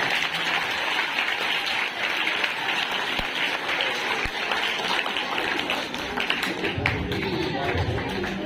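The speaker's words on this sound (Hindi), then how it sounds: "एक बार ताली बजा लो।" Applause from an audience at a school GK quiz competition award ceremony, a steady dense wash of clapping sustained throughout, fairly close and even, with a few sharper thuds and faint voices mixed in.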